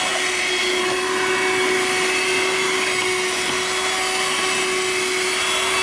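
An Audew 12V DC portable car vacuum cleaner runs continuously with a loud, steady motor whine and airy rush, close up and alone throughout.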